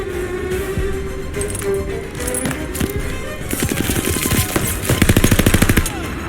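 Machine gun with a 100-round drum firing in the Call of Duty Vanguard video game Stalingrad mission, loud rapid bursts rattling at a fast rate of fire, building into a sustained stream toward the end.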